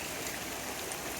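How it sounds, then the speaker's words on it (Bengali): Heavy rain pours down in a dense, steady hiss that fills the whole scene, with no voices over it. "আজকে আমাদের এখান দিয়ে অনেক বৃষ্টি।"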